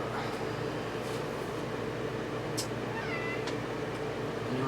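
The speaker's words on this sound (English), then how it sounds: "the cat meows at you again." A cat gives a few faint meows over a constant steady hum of background noise.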